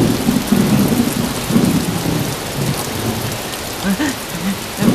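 A film scene where a storm breaks: loud rolling thunder rumbles in low surges over a steady, close downpour of rain hissing on surfaces, with a deeper thunder swell near the end.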